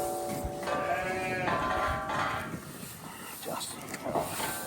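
Ewe hoggets bleat during sheep classing on a South Australian farm, several overlapping calls near and loud against a busy background, with people talking in between.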